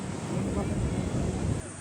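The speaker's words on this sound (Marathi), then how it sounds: "कसल्या मोठ्या लाटा आहेत बघा." Big ocean waves rumble at Kashid Beach near Alibag, a continuous roar of surf heavily mixed with wind buffeting the microphone, loud and close for a brief moment before dropping off.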